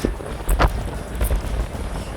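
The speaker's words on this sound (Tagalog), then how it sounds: "Hangin." Gusts of wind rush and thump against the microphone in short bursts, on the deck of a cruise ship at sea.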